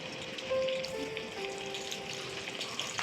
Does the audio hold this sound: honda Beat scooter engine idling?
no